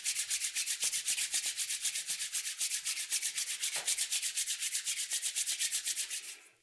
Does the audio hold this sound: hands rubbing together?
yes